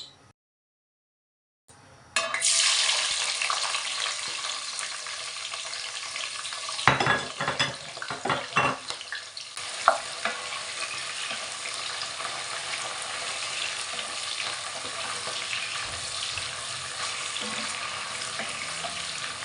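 Chopped onion hitting hot coconut oil for jollof rice: a sudden loud sizzle bursts in after a quiet start, with a few clattering stirs, then settles into a steady bright frying hiss.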